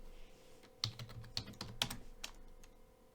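Keys clatter on a computer keyboard as a command is typed into a console, a short close run of crisp clicks with a few sharper strikes, and no one speaking.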